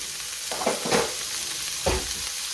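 Beef frying in avocado oil in a pot gives a steady, hissing sizzle, broken by a few short scraping bursts of stirring, with no voices.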